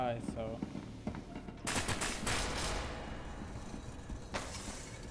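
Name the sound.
gunfire in the video game SCP: Secret Laboratory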